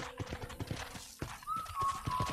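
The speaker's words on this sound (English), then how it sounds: "let's see if you can still ride a horse." Horse hooves clip-clop at a steady trot in the Red Dead Redemption video game, close and fairly loud, with a faint whinny and a brief sustained tone partway through.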